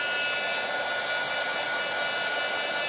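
A hair dryer blows steadily on damp craft card, a continuous close, even hiss of rushing air with no breaks or voices.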